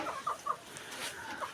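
Local egg-laying hens cluck in a few quick, soft calls close by, with a brief flurry of clucking over a quiet yard.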